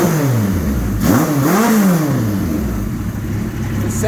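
A Suzuki GS 1100E custom motorcycle engine idles loudly nearby, then is revved twice in quick sharp blips that rise and fall before settling back to a steady rumble.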